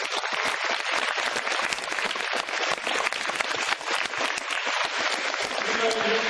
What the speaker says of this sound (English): I'd like to give an applause to Deputy Biggs for the effort